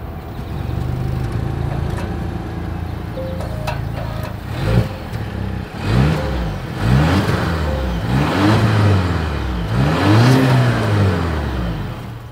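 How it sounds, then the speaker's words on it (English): A 2024 Volvo S60's exhaust idles, then revs repeatedly, each rev rising and falling in a series of loud, throaty surges close by. "As always, here is that exhaust clip."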